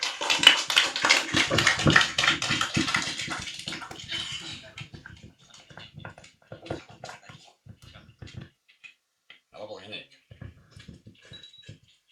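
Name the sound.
audience applause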